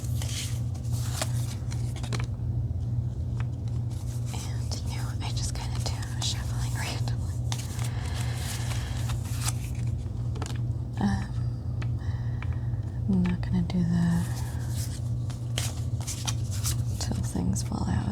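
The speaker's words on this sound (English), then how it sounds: "And I just kind of do a shuffle." Tarot cards being shuffled by hand in close, quiet ASMR style: soft repeated riffling and papery brushing under whispered talk.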